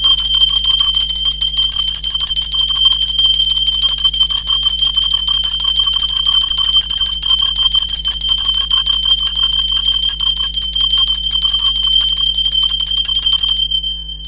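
A bell, rung to open a spiritual reading, gives a bright, sustained ringing tone with fast repeated shimmering strikes, loud and close, for over thirteen seconds before stopping.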